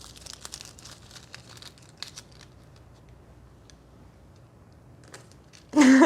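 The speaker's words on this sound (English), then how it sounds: "we are gonna grab some rose gold transfer foil" Rose gold transfer foil being handled for nail art, with light crinkling and rustling in scattered bursts at the start, then quiet, then a loud close crackle at the end.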